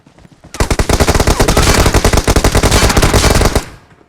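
Loud, close automatic gunfire in PUBG Mobile, a fast unbroken stream of rapid shots lasting about three seconds before stopping abruptly, with no talking over it.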